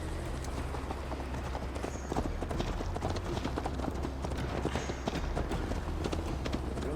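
Horse hooves clip-clopping steadily during a ride in Assassin's Creed Valhalla, a continuous rhythmic beat of hoof falls over a constant bed of outdoor ambience and movement.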